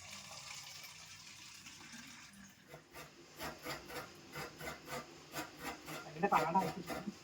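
Hands knead dough mixed with banana and sugar for modakam, making close, rhythmic squishing and rubbing strokes that start softly and settle into a regular beat.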